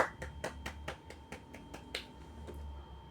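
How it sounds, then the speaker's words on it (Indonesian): Children clapping hands together in a primary-school maths lesson, about a dozen sharp, evenly spaced claps in a quick rhythm, fairly quiet over a low background hum. "tepuk tangan buat kalian"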